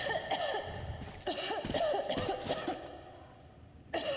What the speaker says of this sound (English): Stop coughing in my face.